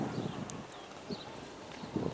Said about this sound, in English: We like to pair our horses up during the day